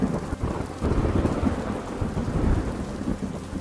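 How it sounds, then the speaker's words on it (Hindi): Heavy rain pours steadily, with deep rumbling thunder rolling underneath, dense and loud throughout with no voices. "फिर जोर से बारिश होने लगी।"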